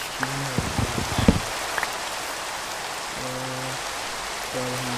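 Steady rain falls in the Minecraft video game, a constant soft hiss that runs through the whole stretch, with a few brief tonal game sounds and clicks on top.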